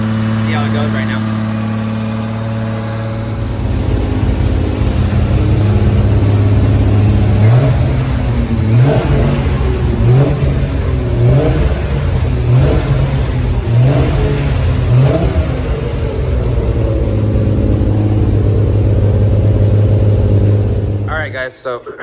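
A freshly fired fully built 2000 hp Lexus IS300 engine roars loudly and close, idling roughly before repeated surging revs with a throbbing low exhaust drone, cutting off abruptly at the end.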